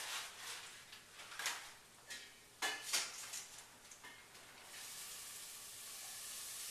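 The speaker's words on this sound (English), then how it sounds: "I've got my garlic sizzling." Garlic sizzling in a pan while making fettuccine Alfredo with chicken and broccoli, a soft hiss with faint clinks of utensils and pan knocks, the sizzle growing steadier toward the end.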